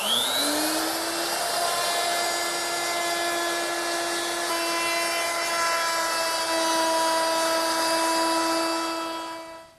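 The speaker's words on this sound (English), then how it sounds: "the last milling operation is to round over these edges on all 4 sides. And to do that, I'm going to use my 1/4 inch rounding over bit" Router fitted with a quarter-inch round-over bit shaping the edges of an ash drop-leaf table, a loud steady high whine that spins up at the start and holds evenly for about nine seconds before tapering off.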